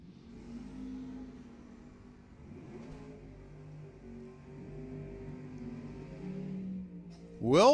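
A Camaro and a Le Mans drag racing at Lebanon Valley Dragway: distant engines rumble and drone at low level, then a loud, rapidly rising revving sweep bursts in close at the very end.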